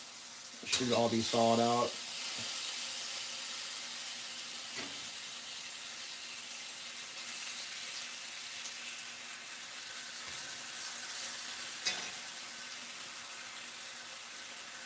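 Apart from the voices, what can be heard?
bacon frying in a pan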